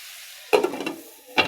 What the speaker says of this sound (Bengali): কুমড়া ভাজাটা কেমন হচ্ছে